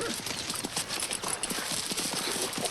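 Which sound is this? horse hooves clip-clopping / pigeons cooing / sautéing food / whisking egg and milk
horse hooves clip-clopping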